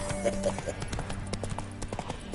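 Horse hooves clop at a walking pace on a hard surface in The Witcher 3: Wild Hunt, Hearts of Stone, mixed with game ambience and a low musical hum.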